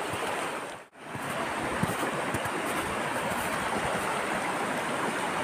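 A river flows through a forest in a steady, broad rush of water, loud and continuous, with a brief dip near the start and no voices.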